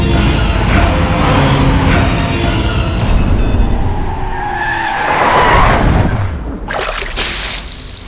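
Car pulling away with loud tire skidding and squealing over engine roar, the screech rising and fading mid-way before a final sharp burst of noise near the end.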